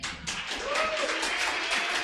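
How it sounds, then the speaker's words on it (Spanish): A church congregation bursts into applause during a sermon, a brief bright clatter of many hands that swells quickly and stays dense, with a faint voice briefly rising beneath it. "Dale un aplauso al Señor."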